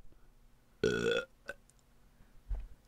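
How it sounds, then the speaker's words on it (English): A baby lets out a single long, loud burp after guzzling milk. It stands alone against a quiet background, followed by a couple of faint thuds. "burp."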